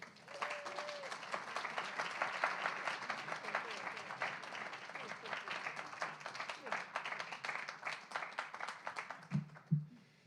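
A room of people applauds steadily for a poet at a poetry reading, a sustained wash of clapping that fades out near the end as a voice begins.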